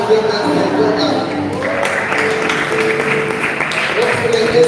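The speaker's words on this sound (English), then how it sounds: "please clap for them as they go out." Audience clapping at a church talk, a steady wash of applause that carries through the whole stretch, with a voice or two talking over it.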